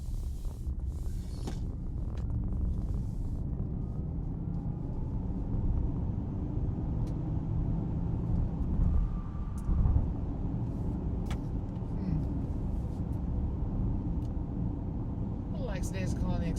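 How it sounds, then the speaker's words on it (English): Inside a Honda Prologue Elite AWD electric SUV on the road, steady tyre roar and wind rush fill the cabin at a moderate level, with occasional bumps and faint clicks. "Boy, there's a lot of wind noise."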